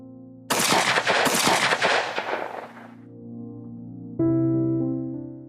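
Two loud, close gunshot blasts from a semi-automatic pistol in quick succession, each with a sharp crack and a long rumbling decay, followed by a steady low tonal drone.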